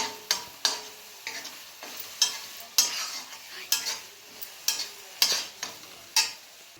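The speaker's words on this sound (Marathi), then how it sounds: "पाणी टाकून व्यवस्थित मिक्स करून घेते" Tomato masala with water being stirred in a pot, about a dozen sharp spoon scrapes and knocks in a rhythmic pattern over a faint sizzle.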